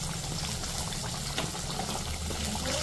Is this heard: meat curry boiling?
yes